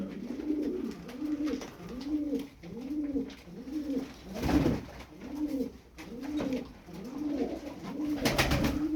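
Repeated soft pigeon coos in a steady rhythmic series, close by, with a couple of brief rustling bursts between calls.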